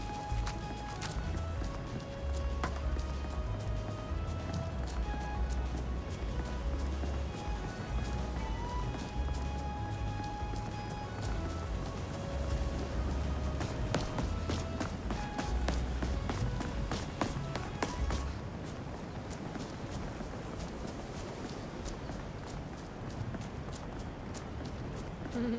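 Horse hooves clip-clopping in Skyrim, a steady run of footfalls over a busy game soundscape that softens toward the end.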